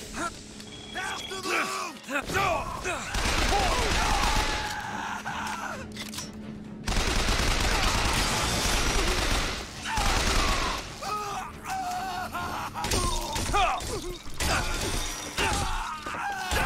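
Repeater machine gun fire in the shooter game Bioshock Infinite, sustained rattling bursts mixed with crashing impacts and game noise, loud and close, with a break around the middle.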